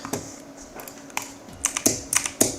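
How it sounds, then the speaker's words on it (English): Sharp, light clicks of a computer mouse on a mouse pad, a few scattered single and double presses, close and clear with no talking. "I like the click sound on this better because I don't care about how loud it is."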